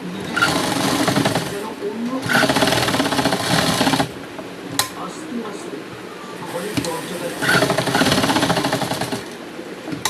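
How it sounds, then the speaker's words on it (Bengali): Electric sewing machine stitching a blouse, running in loud steady bursts of rapid chattering with brief pauses between runs, close by. "আজকের আমি এটা ব্লাউজ সেলাই করে সেলাইয়ের পদ্ধতিটা তোমাদের সঙ্গে শেয়ার করছি।"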